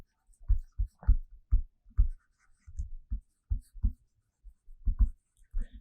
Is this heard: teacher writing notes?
yes